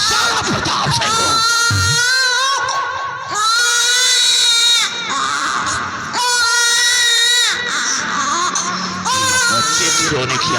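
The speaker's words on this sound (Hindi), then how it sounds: "बच्चे की रोने की आवाज आ रही है" A baby cries from the direction of a river in a staged theatre drama, letting out loud, strained wails in repeated bursts with short gaps between them, over a busy, noisy background.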